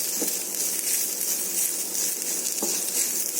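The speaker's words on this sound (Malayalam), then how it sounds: "ഇനി ഇതൊന്ന് പച്ചമണം മാറണ വരെ മൂപ്പിച്ചെടുക്കണം" Ground spice powders sizzling in oil in a pan while cooking a chicken curry, a steady soft frying hiss with a couple of faint stirring knocks, close and without talk.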